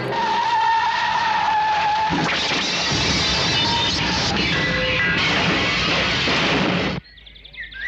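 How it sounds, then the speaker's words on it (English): A car skids out of control and careers off a mountain road, loud sustained tire screech and roaring engine for several seconds, then cutting abruptly to near quiet. "Out of control, the car careered off the mountain road."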